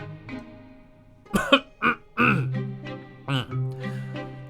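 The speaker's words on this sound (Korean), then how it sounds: "덩치는 헛기침을 하고 말을 이었다" A man clears his throat with a few rough, gruff coughs, close by and moderately loud.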